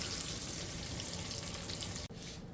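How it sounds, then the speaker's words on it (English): Bacon sizzles and crackles in a pan for a bacon mac and cheese dish, a dense, steady hiss that cuts off briefly near the end. "we'll be back as the bacon gets to cooking"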